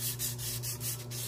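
Hand-sanding a metal part from a Mio Soul i 125 CVT scooter with 500-grit sandpaper: steady, closely repeated rubbing strokes over a constant low hum, with no talking.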